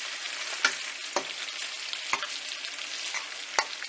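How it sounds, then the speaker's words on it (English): Bacon frying in a pan for baked beans, a steady close sizzle and crackle with a few sharp pops and stirring scrapes, no voices. "Now this bacon's been cooking for about 7-8 minutes."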